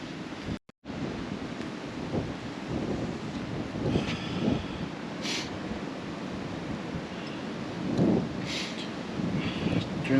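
Fast-moving wind gusting outdoors on a countryside walk, a steady rushing buffet across the microphone with stronger surges, broken by a brief dropout near the start.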